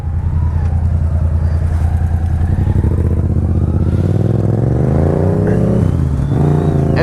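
A Honda Goldwing trike on the move gives a continuous loud engine drone with shifting harmonic pitch as it accelerates and eases off, rising toward the end, with rushing road and wind noise underneath.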